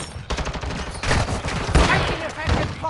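Rapid bursts of automatic gunfire in Call of Duty: Modern Warfare 2 crack loudly and close, overlapping in a dense fusillade with a few shouted callouts mixed in.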